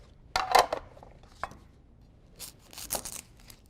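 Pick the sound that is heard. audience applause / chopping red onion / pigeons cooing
chopping red onion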